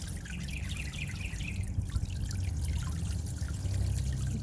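Laminar-flow water trickling into a small garden fairy pond, a continuous gentle splashing outdoors with soft ambient background and no talking.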